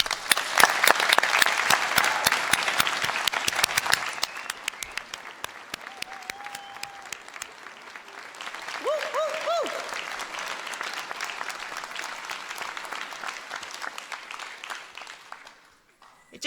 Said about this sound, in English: I think it's our turn now to give you a massive round of applause